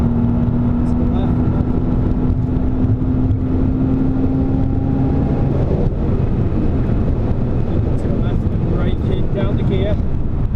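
Car engine on the Silverstone circuit, a loud, steady drone with a sustained tone that rises and then drops as a gear changes, heavily buffeted by wind noise throughout.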